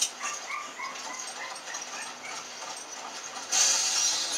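A dog in the video game Resident Evil 5 barks and whimpers in short, repeated yips over a steady game soundscape, followed by a louder hissing burst near the end.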